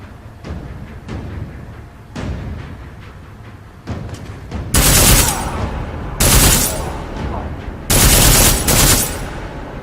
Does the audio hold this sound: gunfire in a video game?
yes